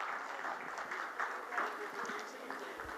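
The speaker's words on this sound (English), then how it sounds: "Can we please have a round of applause for Ms." Audience applause at a panel event on stage, a dense steady patter of clapping from a seated crowd, moderately loud and sustained for the whole stretch.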